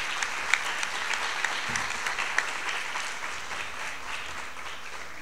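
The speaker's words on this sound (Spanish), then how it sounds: "pido que renovemos el aplauso también porque parte de esto fue gracias a ella" Audience applause at a law conference hall in a Spanish-speaking setting, steady dense clapping from a seated crowd that holds evenly throughout, moderately distant and without speech.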